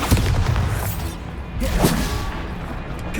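A loud, close explosion from the Bombarda spell in the game Hogwarts Legacy, a heavy blast with rumbling debris and crashing impacts that fade over a few seconds.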